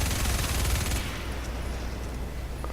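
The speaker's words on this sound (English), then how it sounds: "let's shoot this freaking guy" Gunfire in the Starhawk video game, a dense rapid burst of shots for about a second, then trailing off into a low rumbling background.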